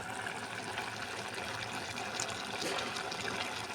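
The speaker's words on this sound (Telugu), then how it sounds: "ఇంకా నీళ్ళు పోస్తాను చూడండి" Water being poured into a cooking pot of cauliflower and red lentil dal, a steady trickling, splashing pour running continuously and fairly close, with no talking over it.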